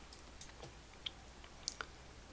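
Sharp, isolated mouse clicks from drawing with the pen tool in Illustrator, a few irregular taps spaced through the stretch over a faint steady background hiss, with no talking.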